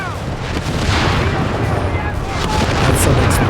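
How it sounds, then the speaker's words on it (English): Explosions and artillery fire in the video game Company of Heroes 3, a dense, loud, continuous battle roar of booms and blasts lasting throughout. "That's some explosion"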